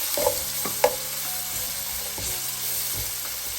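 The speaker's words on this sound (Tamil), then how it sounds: "இந்த வெட்டி வச்சிருக்கிற உள்ளி அதோட இஞ்சியையும் சேர்த்து முதல்ல வதங்க விட போகிறேன்." Chopped garlic and ginger sauté in a pan for seafood fried rice, a steady sizzle under a few sharp scrapes and knocks of a spoon stirring, close and moderately loud with no talking.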